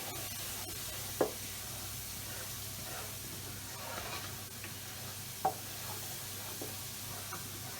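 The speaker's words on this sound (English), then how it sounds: "Now we just want to stir that through." Cumin powder is stirred into garlic frying in a pan, giving a steady soft sizzle with a couple of brief scraping knocks. No one talks.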